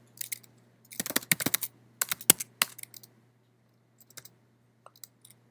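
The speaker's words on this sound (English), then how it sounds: "And then I can type an uppercase Q to quit." Scattered clicks of typing on a computer keyboard, a quick burst of keystrokes followed by a few isolated taps, close and fairly quiet over a steady low hum.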